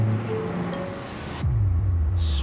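Surf at Bondi Beach gives a steady broadband wash, with a deep engine-like drone cutting in partway through, close and fairly loud.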